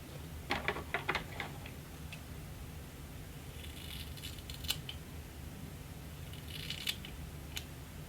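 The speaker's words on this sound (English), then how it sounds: "that's where I need to cut the extension and let it go" Scissors cut into a clip-in hair extension, giving a quick run of small, crisp snips followed by a few scattered single snips over a quiet, hissy room.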